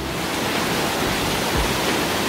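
Water crashes steadily in an underground waterfall deep inside Hwanseon Cave, Samcheok, producing a thick, uniform rushing roar with faint low thumps, close and unbroken throughout.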